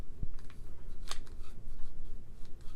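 Volquartsen Black Mamba .22LR pistol with its action worked while unloaded, giving a few quiet metallic clicks and slides, one sharp snap near the middle, all close up and faint over background hiss.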